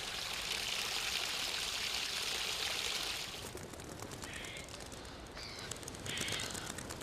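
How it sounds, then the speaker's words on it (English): Spring water filtered down from Table Mountain runs steadily in a South African garden, a close, continuous trickling stream with bright splashing, softening partway through while faint birdsong chirps over the flow. "the water which has come down from the top of Table Mountain filtered down and is still running"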